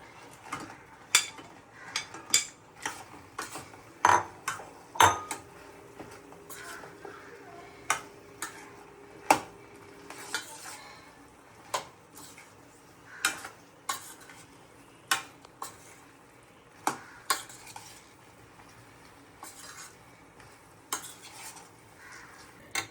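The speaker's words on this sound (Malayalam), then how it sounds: "തിളച്ച് വരുന്ന ഇനി നമ്മുടെ ഇറച്ചി പൊരിച്ചത് ഇതിലോട്ടിട്ട് ഇളക്കാം." Fried chicken pieces being stirred into a boiling Manchurian sauce in a pan, with a steady run of sharp utensil clicks and scrapes against the pot over a low simmering sizzle, fairly close.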